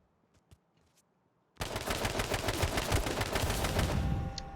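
Sustained automatic gunfire in the online battle royale game H1Z1 erupts loudly after a few faint clicks and continues as a dense rapid spray of shots to the end.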